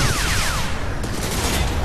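Dense, continuous gunfire from the video game Crysis 3, a loud sustained fusillade of overlapping shots with no pause across the whole stretch.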